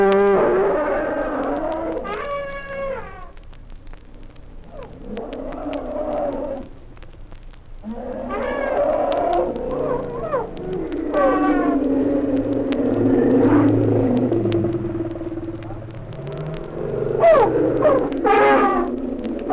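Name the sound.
zoo elephants vocalizing loudly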